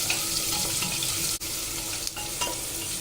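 One large onion fries in about two spoons of refined oil for khichdi, giving an even, close sizzle with soft stirring scrapes and one brief dip partway through.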